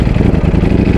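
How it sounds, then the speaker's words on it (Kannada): Kawasaki Z900 motorcycle engine as the clutch is let out: a loud, close, rumbling low engine note with rapid pulsing exhaust throb, steady for a moment. "ಕ್ಲಚ್ ಬಿಟ್ಟಿದ್ದಷ್ಟೇ ಸಕ್ಕೆ ಎಕ್ಸ್ಟ್ರಾ ಸೌಂಡ್ ಬರುತ್ತೆ"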